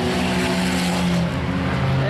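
Race cars in a chain race at Humberstone Speedway during a car-on-car event, a dense continuous engine roar with a steady tonal drone, loud and close, under an announcer's commentary.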